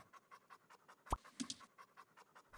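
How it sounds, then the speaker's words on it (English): An animated cartoon dog pants in quick, steady huffs, with one sharper, louder burst midway through the breathing rhythm. "And Woof, our dog, well, he barks."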